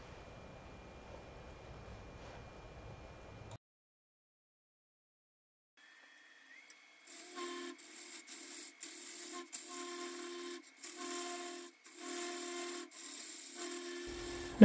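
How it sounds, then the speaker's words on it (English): A carbide scraper cuts wet wood on a spinning lathe. A quiet rasping stretch breaks into silence, then a steady, buzzing scrape returns in repeated strokes of rising and falling intensity. "In this case, this is a carbide scraper, but a regular scraper will do the same thing."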